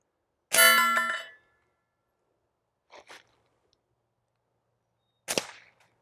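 .22 caliber gunshots fired at targets outdoors: one sharp crack with a ringing tail, then a quieter pair of pops, then another crisp shot, separated by silence.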